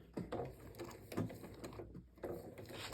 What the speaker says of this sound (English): I'll just stitch some out for you right here so you can see it